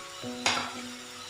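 Finely chopped cabbage drops into a pan of frying carrots with a sudden burst of sizzle and a brief stir, then settles into a quieter hiss; no voices.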